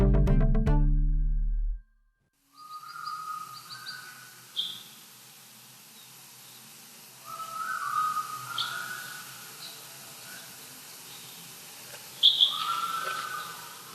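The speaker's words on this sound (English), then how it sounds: "That sound you're hearing is the dawn chorus" A dawn chorus of several birds calling and whistling in a quiet forest valley in Tasmania, with scattered chirps and melodic phrases overlapping at varying distances after a brief musical intro.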